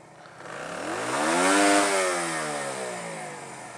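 A motorcycle engine in traffic revs up with a rising, harmonic drone, peaks, then winds down and sputters as it stalls, fairly close and alone without talk.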